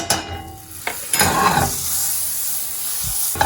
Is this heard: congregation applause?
no